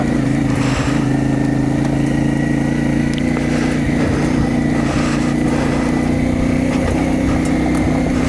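A CFMOTO MT450 motorcycle ridden along a light trail, its engine droning loud and steady throughout with small throttle swells and rough ground noise.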